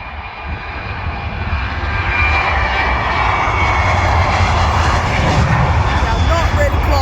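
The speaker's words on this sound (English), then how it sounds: "good takeoff, very loud" A TUI passenger jet takes off at East Midlands Airport, its engine roar building loud and steady as it passes close, with people talking over the noise.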